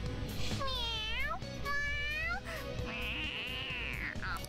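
Cat meowing in the video game Persona 5 Royal: several drawn-out, rising and falling meows in a row, loud and close, over steady game music.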